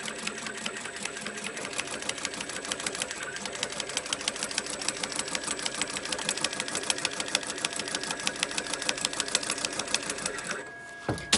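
A sewing machine stitches a seam on a quilted, lined crossbody backpack with a rapid, even mechanical chatter that runs steadily and close, then stops near the end.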